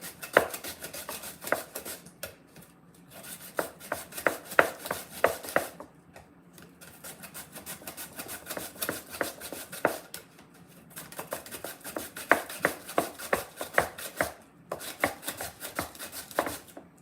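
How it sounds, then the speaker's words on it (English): Food rubbed across a papaya grater in a home kitchen, a steady run of rasping, scraping strokes in bursts separated by short pauses, close and fairly quiet. "this is like one of the papaya grater"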